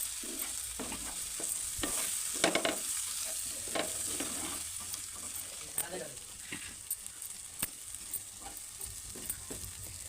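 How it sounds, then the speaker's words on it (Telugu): Drumstick masala fry stirred in a pan after lemon juice goes in, soft continuous sizzling with repeated scraping clicks of the spatula, close and fairly quiet, no voices. "ఇలా నిమ్మరసం వేసి కలుపుకొని తీసేయాలి"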